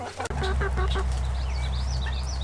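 Several chickens cluck and chirp close by, a busy overlapping chatter of short calls and higher squeaky notes over a low steady hum.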